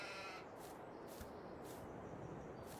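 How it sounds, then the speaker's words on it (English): Sheep bleating in a farming video game, several short repeated bleats at a regular pace over a steady hiss of outdoor ambience, moderately close. "Here's the sheeps."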